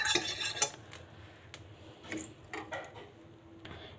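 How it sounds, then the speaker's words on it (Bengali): Salt and turmeric being stirred into hot oil in a pan while cooking a Bengali egg and potato curry, with quiet metal spoon clinks and scrapes against the pan in short irregular bursts. "এই তেলে দিয়ে দেবো কিছুটা পরিমাণ লবণ এবং কিছুটা পরিমাণ হলুদ গুঁড়ো দিয়ে একটু নেড়ে দেবো"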